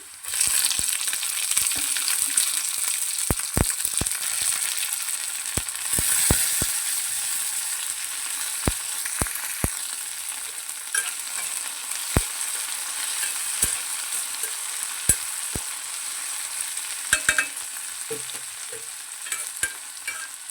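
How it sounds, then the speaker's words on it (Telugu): Tomato pieces fry in a pan for radish curry, a steady close sizzle running throughout with scattered sharp clicks and scrapes of stirring, no voices. "ఇప్పుడు టమోటా ముక్కలు వేయాలి"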